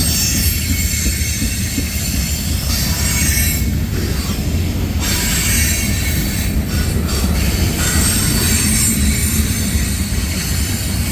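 A slow freight train on the Old Main Line, led by CSX 899, rolls past close by, its wheels squealing and screeching over a loud steady rumble.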